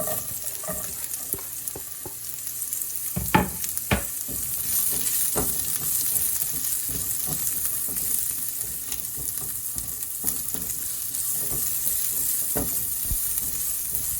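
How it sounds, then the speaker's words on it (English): Onions frying in a pan for Punjabi dhaba-style aloo paratha, a steady close sizzle with occasional stirring scrapes and clinks throughout, no talk. "We need to cook the onions until it's translucent."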